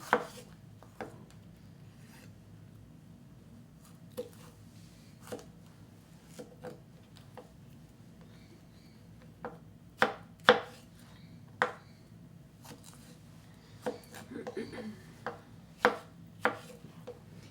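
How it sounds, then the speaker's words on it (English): A knife chops green vegetables and fruit on a cutting board for fruit salsa, giving sharp, irregular knocks, some spaced and some in quick bursts, fairly close over a quiet kitchen background with no talking. "each time I'm cutting, I'm not just leaving these little green pieces all in my way to gather in front of my knife"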